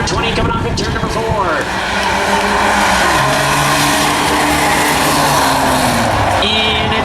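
Race cars roar around a short oval track during a claimer-class race, engines loud and continuous as the pack runs side by side, with a commentator talking over the din throughout.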